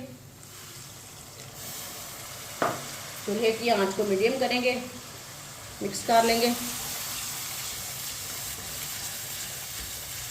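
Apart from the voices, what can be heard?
water poured into frying spices in a pan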